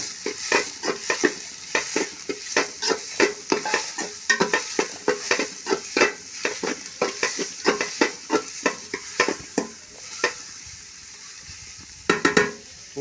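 Onion masala for biryani is stirred and fried in a pan, with rhythmic scraping strokes of the spoon repeating steadily over a continuous sizzle. The strokes pause briefly before a final quick burst of stirring.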